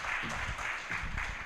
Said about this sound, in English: Please give her another hand clap.